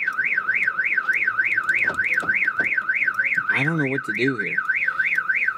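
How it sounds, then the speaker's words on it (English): Car alarm wailing in a steady, rapid rising-and-falling siren pattern, loud and close, while a person speaks briefly over it. "our car alarm just keeps going off just all the time"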